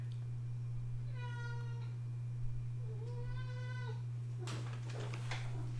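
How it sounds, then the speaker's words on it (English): A house cat meows three times, two drawn-out, clearly pitched calls followed by a shorter, rougher one, faint behind a steady low electrical hum. "Hear my cat meowing there."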